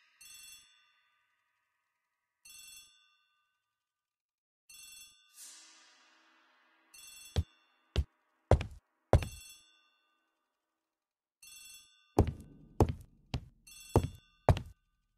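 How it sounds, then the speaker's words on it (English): In a hall in Agatha Christie: The ABC Murders, a telephone rings in short repeated bursts, interspersed with several sharp thunks and knocks, clear and alone without speech. "The telephone in the hall is ringing."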